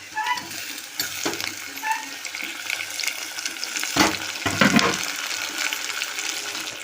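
Onions and tomatoes sauté in a pan for a green-pea veg biryani, giving a steady close sizzle with a few louder stirring scrapes and spoon knocks partway through.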